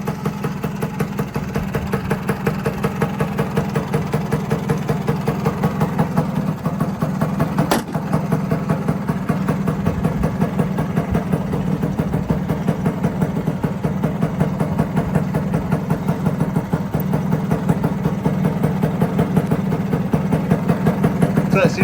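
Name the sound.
1969 Lambretta GP 125 scooter engine running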